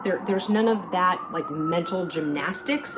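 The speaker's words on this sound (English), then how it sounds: "Apologies for the siren that's going on in the background" Emergency vehicle siren wailing outside an open window, a steady rising tone running faintly beneath continuous close talking.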